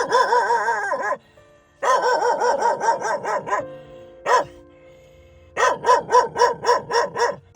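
A disabled Thai street dog barks in a series of rapid, close, loud yaps, broken by short pauses between bursts with a rhythmic run of barks at the end.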